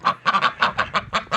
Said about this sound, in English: And all the birds.